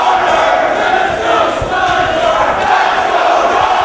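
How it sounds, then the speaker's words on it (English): A packed Ring of Honor wrestling arena crowd roaring loudly and continuously, a dense wash of shouting and jeering voices close and unbroken throughout. "And listen to that crowd."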